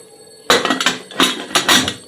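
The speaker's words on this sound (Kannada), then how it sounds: "ಇವಾಗ ಇದು ಕುಕ್ಕರ್ ಲಿಡ್ ಕ್ಲೋಸ್ ಮಾಡಿ" A pressure cooker lid is fitted and closed, producing a few close metallic clanks and scraping knocks in quick succession over a quiet background.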